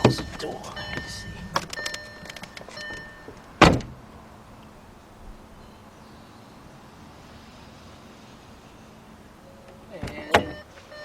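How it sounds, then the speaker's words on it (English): A 2014 Volkswagen Beetle 2.0 with a no-start fault: a solid door slam lands after some rustling and a voice, followed by quiet, then another clunk of the car body near the end. "Let me close the door."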